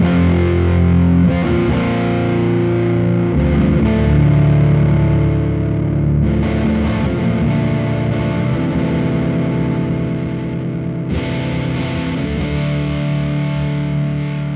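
Fredric Effects Green Russian Big Muff fuzz pedal on electric guitar with conservative sustain, the tone control swept while sustained distorted chords ring continuously at steady loudness with no talking.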